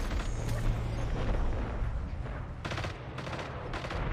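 Gunfire in Destiny 2, with a clustered volley of sharp shots toward the end over a steady din of game ambience, loud and close.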